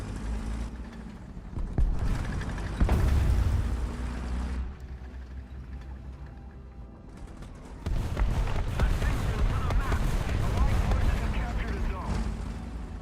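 Tank cannon fire in an American ground forces battle game: heavy booming shots with rumbling, mechanical clatter of the tank around them, and someone talks over parts of it.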